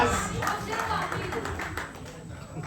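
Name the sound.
applause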